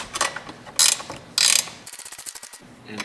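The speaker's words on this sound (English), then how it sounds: "we're going to use our 10 millimeter wrench just to tighten up the bolts on the bottom" A 10 mm ratcheting wrench tightens bolts on the underside of an ATV during assembly, giving close, rapid clicking bursts of pawl ratchets between louder scraping handling noises, with no talking.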